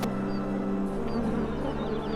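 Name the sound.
wild honeybees buzzing at hive in old tree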